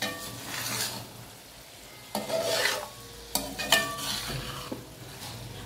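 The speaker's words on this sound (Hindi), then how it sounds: "इसको मैं अब मिक्स कर लूँगी। आपने आराम आराम से इसे फोल्ड करना है।" A potato and cauliflower curry is stirred and gently folded in a pot, giving soft scraping and rubbing strokes with a light sizzle underneath and a few sharper spoon knocks against the pot.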